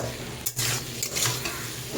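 Vegetables sauté with spices in a pan for a Bengali fish curry, a continuous close sizzle broken by the scrape and clatter of stirring.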